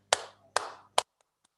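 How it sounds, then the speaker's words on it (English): Three sharp, close hand claps, the first two ringing out with a short echo, followed by two faint taps, with no talking. "Why can't the leather sound make a clapping noise?"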